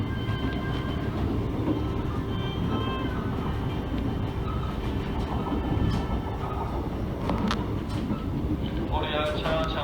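Inside a passenger train running between Gyeryong and Yeonsan stations in Korea, a continuous rumbling roll with faint clicks from the rails fills the car, and a brief high chime sounds near the end.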